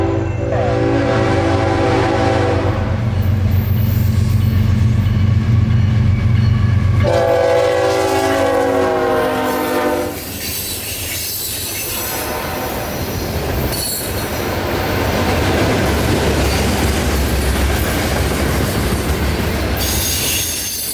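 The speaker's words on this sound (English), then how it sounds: "This Q603 had a CSX ES44 AC in the lead, an EMD SD40-2 trailing, and another surprise on the very end." A CSX freight train, Q603, with an ES44AC leading and an SD40-2 trailing, rolls past at night in Bushnell, Florida, sounding a loud sustained horn over steady rumbling wheels and squealing, clattering cars that continue after the horn stops.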